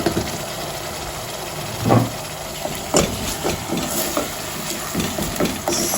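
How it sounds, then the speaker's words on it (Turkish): Tomato paste sizzling and being stirred in a hot pan with already-fried onions, a steady low frying crackle broken by a few louder scrapes and stirs close by. "Salçayı da kavuruyorum kokusu çıkana kadar."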